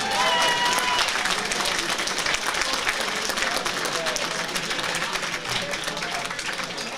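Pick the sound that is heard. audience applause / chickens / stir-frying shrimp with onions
audience applause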